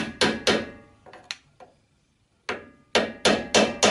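Sharp metallic taps while bending the tab of a slotted nut down to lock it on front train suspension parts, a quick cluster of close knocks, a pause, then another run of strikes.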